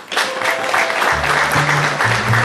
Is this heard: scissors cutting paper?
no